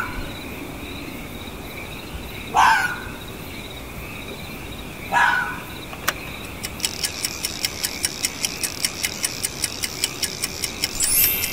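A fox gives two short, harsh calls a few seconds apart, moderately near, followed by a steady mechanical ticking that runs to the end.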